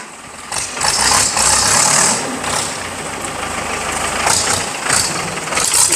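A vehicle engine idles steadily and fairly loud at close range, with a constant mechanical hum and some bursts of higher noise, no talking.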